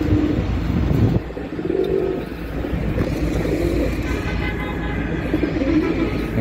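Domestic pigeons around two to two and a half years old coo in low, repeated throaty murmurs close by, with some faint background noise and traffic.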